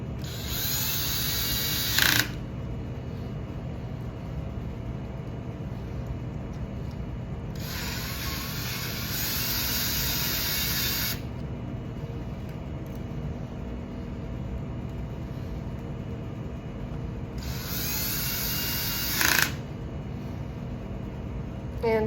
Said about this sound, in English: I'm just going to put a handful of screws in.